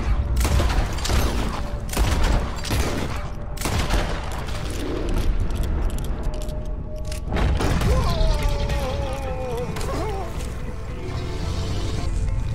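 Repeated gunfire in Red Dead Redemption 2 crackles in dense volleys and booms at close range, with shouted talk over it throughout.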